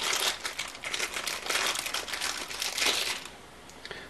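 A LED arcade button is pulled out of crinkling plastic packaging, giving a close, steady rustle and crackle for a few seconds before it tapers off.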